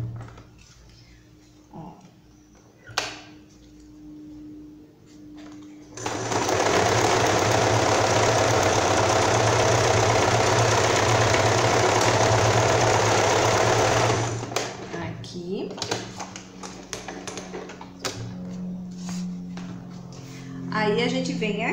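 Sewing machine stitching a fabric strap for a child's bag, a loud continuous whirring run of about eight seconds in the middle, with handling noises and someone talking before and after.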